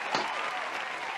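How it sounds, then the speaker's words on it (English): Studio audience applause welcoming talk-show guest Danyell Davis, a steady wash of many hands clapping at moderate volume, swelling briefly at the start and then holding even. "we got to clap it in and applaud this queen for joining us"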